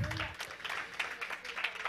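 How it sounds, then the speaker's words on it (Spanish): Congregation applause in a church after a prayer, a brief steady patter of many hands clapping at moderate level, with a voice at the start. "Dele un aplauso al Rey bendito."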